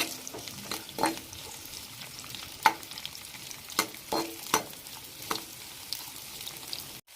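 Capsicum stir-fries in a pan for gravy, a quiet continuous sizzle punctuated by regular sharp scrapes and taps of a spatula stirring the pieces.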